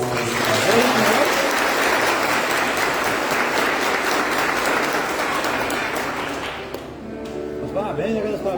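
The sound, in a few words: congregation applauding couple at Mass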